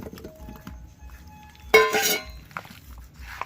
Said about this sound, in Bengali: এবার দিয়ে দিচ্ছি আলুটাকে।